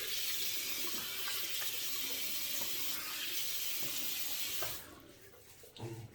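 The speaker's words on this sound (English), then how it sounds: "Just going to wet the brush, knock out most of that soap, water, wet the face." Hot water runs from a tap to wet a synthetic shaving brush, a steady close hiss that cuts off near the end, followed by faint brief handling sounds.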